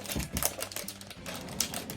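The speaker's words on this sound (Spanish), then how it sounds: "De hecho, abro el paquete también con las tijeras." Scissors snip and crunch through the plastic wrapper of a Japanese Detective Conan snack package, giving a close, rapid series of crisp cuts and crinkles with no talking.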